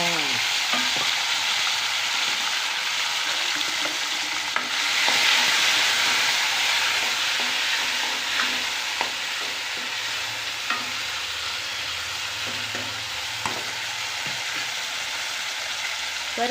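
Tomatoes fry in hot tempering oil with mustard, cumin and fenugreek for a moong curry, making a steady close sizzle and hiss with occasional stirring clicks, lasting the whole stretch with no speech.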